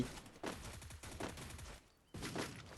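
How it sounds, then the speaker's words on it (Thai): Gunfire in the mobile shooter game Free Fire, loud bursts of rapid shots in several rhythmic volleys with a brief pause before the last burst. "มันยิงกัน เพื่อน มันยิงกันเว้ยมันยิงกันเว้ย"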